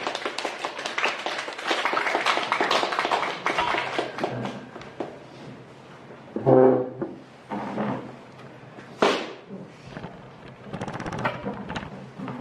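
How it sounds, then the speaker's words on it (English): Sustained audience applause welcoming a speaker to a talk, dense steady clapping from many hands that gradually thins out, with a few louder bumps and handling noises as the room settles. "please welcome Jonathan with applause"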